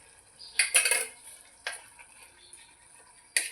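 A spoon stirs and scrapes a brinjal curry with raw coconut in a metal pot, giving a cluster of clattering scrapes followed by a few isolated knocks against the pot, close by and without speech.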